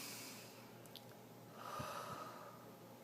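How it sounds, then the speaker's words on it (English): A single deep breath, a slow faint inhale rising to a soft exhale, close and quiet with no talking. "I take another deep breath"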